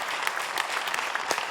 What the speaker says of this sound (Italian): Io direi che possiamo fare un applauso a Gianni Turco